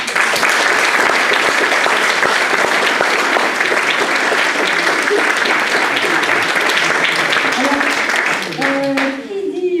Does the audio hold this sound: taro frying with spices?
no